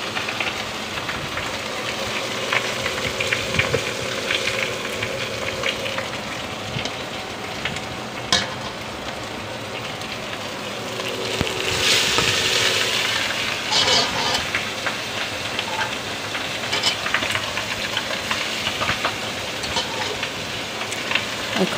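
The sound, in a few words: fish frying in a pan, being turned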